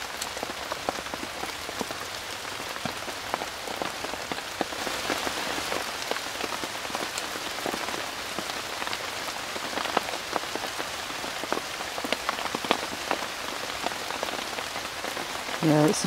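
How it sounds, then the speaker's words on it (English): Heavy rain drums steadily on a taut tarp, a dense close patter with sharper individual drops, continuous for the whole stretch without talk. "Yep, that's heavy rain."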